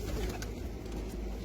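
Pigeons in a loft of 47 birds kept for sale in Diwaniyah coo softly and continuously, a low steady murmur of several birds with no talking.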